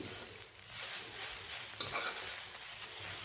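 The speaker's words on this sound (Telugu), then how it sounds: "దీని ఒకసారి మొత్తం కలుపుకుందాము" Grated carrot for halwa is stirred in a hot pan, a close, loud scraping and sizzling swirl that swells and eases across a few seconds.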